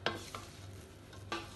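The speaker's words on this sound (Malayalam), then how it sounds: "ഇതിനി ഒന്ന് ഇളക്കി വറുത്തി എടുക്കാം" Samak rice pulao is stirred and roasted in a pan, with a few soft scraping strokes of a spoon over a faint sizzle, quiet and close.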